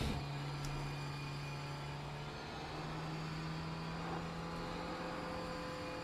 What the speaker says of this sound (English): you weren't subjected to this brake squeal last time, as I try and get some heat into the brakes and tyres